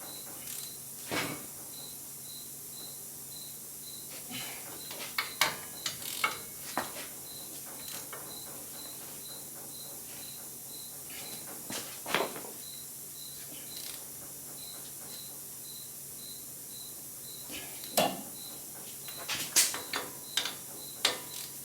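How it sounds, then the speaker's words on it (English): A ratchet wrench tightens the four hub assembly bolts on a 2007 Nissan Xterra during front wheel bearing replacement, with sparse quiet clicks and brief ratcheting bursts against a steady background hum. "now let's make sure all the 4 bolts are completely tight"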